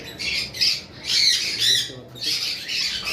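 A lutino cockatiel from a breeding pair gives a run of harsh, shrill squawks in several bursts, close and fairly loud against a quiet background.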